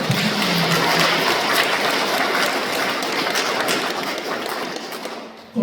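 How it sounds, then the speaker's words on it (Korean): Sustained audience applause for a choir at a Won Buddhist temple Sunday service, dense steady clapping filling the hall for several seconds before fading. "우리 합창단에게 응원의 박수 다시 한번 부탁드립니다"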